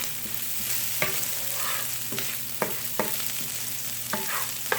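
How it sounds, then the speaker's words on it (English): Cold crab meat sautéing in oil in a skillet, a constant sizzle punctuated by regular clicks and scrapes of a utensil stirring in the pan. "I'm just gonna cook my crab meat a little bit"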